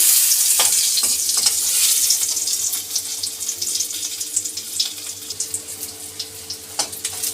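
A besan and suji egg sandwich fries in hot oil in a pan, giving a steady bright sizzle that later breaks into crackling pops and spatters, close and fairly loud, with no talk.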